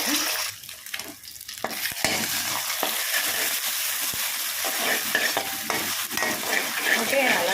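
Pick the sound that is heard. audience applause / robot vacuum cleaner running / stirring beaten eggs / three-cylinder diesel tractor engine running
stirring beaten eggs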